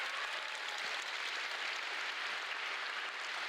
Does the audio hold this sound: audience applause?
yes